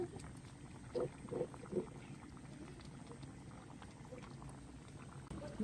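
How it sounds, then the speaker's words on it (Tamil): Milk boiling gently on low heat, with soft bubbling and a few louder pops early on over a steady low simmer. "நாங்கள் பால் ஒரு தரம் நல்லா கொதிக்க மெல்லிய நெருப்பில் விடுவோம்"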